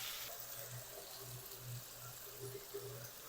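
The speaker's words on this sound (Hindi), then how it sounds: "थोड़ा सा इसके अंदर पानी ऐड करके ये भी हम शामिल कर देंगे" Water trickles and sizzles into a pan of onion and cashew paste for an egg korma, a steady broad hiss under a low kitchen hum, with a voice talking faintly underneath.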